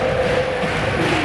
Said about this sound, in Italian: Applausi per Rosignoli